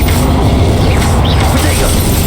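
An Incendio fire spell cast during a Hogwarts Legacy battle gives a loud, sustained booming blast of fiery noise, with crashing impacts layered through it.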